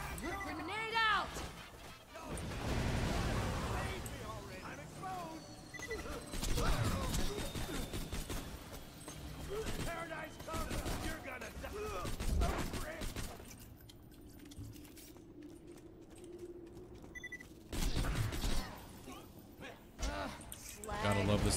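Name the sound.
grenade explosion and gunfire in video game Borderlands 2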